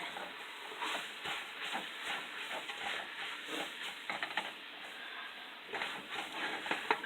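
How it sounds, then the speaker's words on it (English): Stirring cream cheese into simmering creamy bacon ranch chicken soup brings a steady, faint bubbling hiss under soft spoon scrapes, continuous throughout with no talking. "I'm just going to stir that around to melt the cream cheese."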